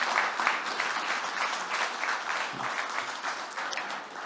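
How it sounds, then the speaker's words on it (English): An audience at a technical conference talk breaks into applause, a steady dense clapping that runs unbroken and fairly loud throughout, with no speech over it. "I can get some applause"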